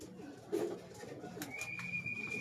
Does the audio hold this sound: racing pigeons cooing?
yes